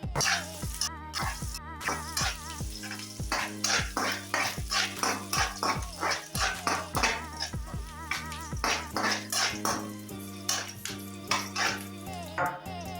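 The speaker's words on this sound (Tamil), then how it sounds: "நல்லா வதக்குங்க. நல்லா பொன்னீர் வரணும்." A metal spoon scrapes and clatters steadily in a pan as chopped chow chow and onions are sautéed for chutney, the stirring strokes coming in a quick, regular rhythm, close and fairly loud, with no talk.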